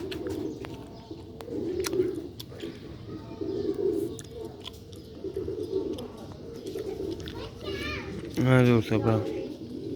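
A pair of Sialkoti Ali-wale pigeons coo softly and repeatedly close by, a louder bubbling coo rising near the end. Someone talks over most of it, with faint children and other birds in the background.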